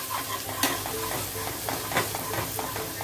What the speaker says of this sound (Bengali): এখন আমি কুচনো পেঁয়াজ অ্যাড করে দেবো, দিয়ে পেঁয়াজটা একদম ভালো করে ব্রাউন কালার করে ভেজে নিতে হবে।